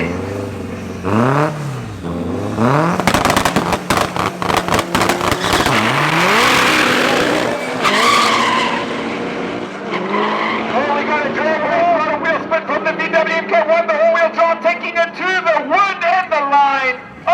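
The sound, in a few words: yellow VW Golf and Audi S3 drag racing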